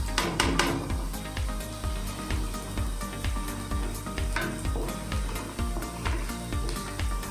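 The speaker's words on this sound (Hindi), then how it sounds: "अब इसमें ये सारे साबुत मसाले शामिल कर देते हैं।" Whole spices fry in a pan for chicken biryani, a steady sizzle with crackles and pops under a rhythmic low thumping, close and fairly quiet.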